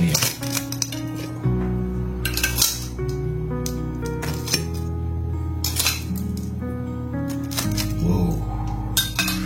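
Ceramic dishes and metal cutlery clink and clatter repeatedly while fried stuffed bread is plated, with sharp ringing knocks spread through the clip over a background of sustained music.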